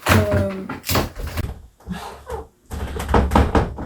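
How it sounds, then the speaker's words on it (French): A bedroom door is banged several times, giving heavy thuds and knocks scattered through the clip, mixed with a woman's loud, excited speech and some rustling. "Je vais bientôt casser ma porte, tout va bien."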